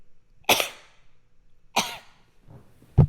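Three separate coughs ring out close by, two sharp and harsh, the last shorter and deeper, with quiet pauses between them.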